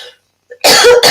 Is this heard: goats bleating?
no